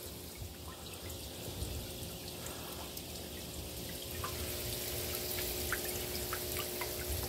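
Water pouring and trickling down inside a prototype hydroponic barrel, a steady continuous splashing flow with faint drips, close and fairly quiet, with no talking.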